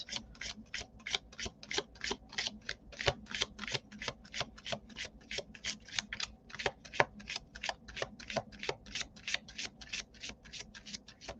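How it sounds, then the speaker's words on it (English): Tarot cards being shuffled over and over in a quick, even rhythm of crisp riffling bursts, close up and without speech. "All right, that was a good shuffle."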